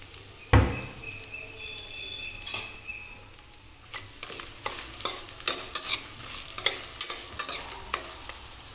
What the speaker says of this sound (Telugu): ఇదిగోనండి బే లీఫ్ వేసాను.